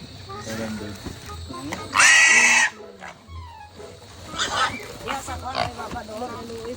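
A pig waiting to be weighed before a fiesta roast squeals in one loud, harsh burst, with grunting and lively conversation among several people around it.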